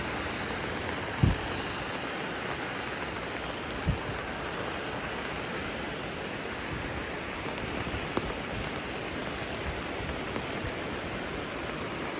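Steady rain falls in the mountains near Rosa Khutor, Sochi, a constant even hiss with a couple of brief close knocks, no voices.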